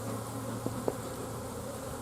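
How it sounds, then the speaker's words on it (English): Honeybees buzz around the entrance of a nuc hive, a close, steady drone, broken by a couple of faint clicks. "you can see by the front of it how many bees are coming and going"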